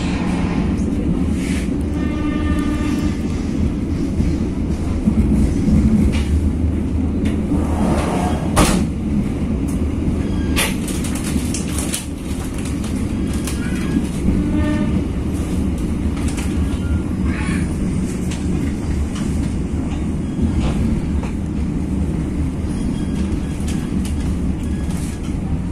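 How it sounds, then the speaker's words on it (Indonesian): A passenger train, the KA Serayu, pulling into Maos station in Indonesia, heard as a steady loud low rumble with rattling carriage and wheel noise and occasional knocks throughout. "Kereta api Serayu sudah tiba di stasiun Maos."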